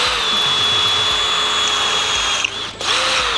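A power drill runs loud and steady with a high whine, briefly dipping near the end before spinning up again.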